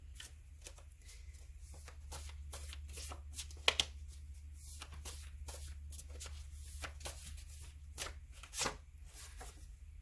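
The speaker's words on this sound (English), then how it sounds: "Let's see if I can shuffle it this way so I can mix them up a little more." A deck of tarot cards is shuffled close up in a quiet room, making repeated quick riffles and soft slaps in an uneven rhythm, with a faint steady low hum underneath.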